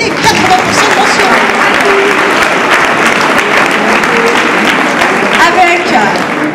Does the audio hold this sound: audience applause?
yes